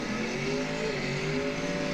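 A Camaro drag race car roars under hard acceleration, a sustained loud engine note at a distance with no speech over it.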